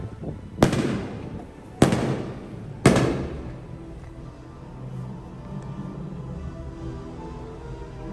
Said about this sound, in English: So enjoy the fireworks.